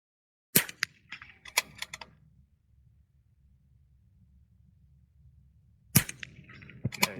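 Rifle shots ring out at an outdoor shooting range, sharp cracks in two clusters several seconds apart, each a quick string of close reports with a short echo trailing behind.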